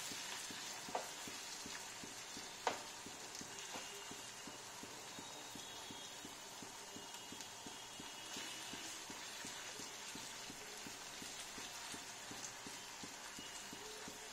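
Prawns frying in a pan for spicy chowmein give off a faint, steady sizzle with soft rhythmic ticking and a couple of sharp clicks, quiet and continuous with no talking.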